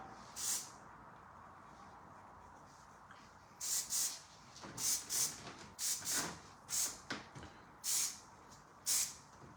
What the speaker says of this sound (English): A little spritz through there.